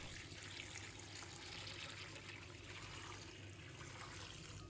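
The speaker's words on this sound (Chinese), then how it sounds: "倒入适量清水" Tap water runs into a large basin holding napa cabbage leaves mixed with a spoonful of salt, a steady faint trickling wash with no voices.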